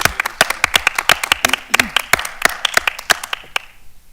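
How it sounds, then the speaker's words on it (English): A small audience at a school board work session claps, the individual hand claps sharp and distinct in an uneven rhythm, thinning out and fading toward the end, with faint voices beneath. "I'm going to ask for one more just overall round of applause"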